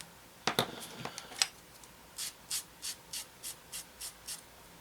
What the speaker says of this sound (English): Sand that down a bit.